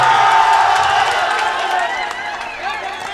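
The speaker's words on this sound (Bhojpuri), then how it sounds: "मेरे गुरुओं के लिए एक जोरदार ताली आप सब बजाइए" A live crowd at a public stage event applauds and cheers for the gurus, a dense wash of clapping and voices that stays loud before easing slightly, with talk mixed in.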